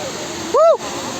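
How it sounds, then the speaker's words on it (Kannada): Abbey Falls in Coorg runs in full flow after rain, making a steady broadband rush throughout, with a brief rising-and-falling tonal, voice-like sound over it in the middle. "ಮಳೆ ನೀರು ತುಂಬಿ ಹರಿತಿದೆ ಅಬ್ಬೆ ಫಾಲ್ಸಲ್ಲಿ"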